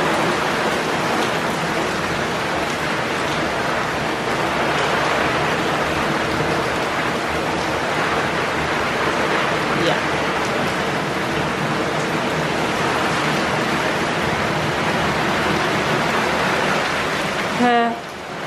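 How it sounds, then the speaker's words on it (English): Steady rain hisses loudly and continuously, a broad wash of falling water with faint voices underneath. "It's raining."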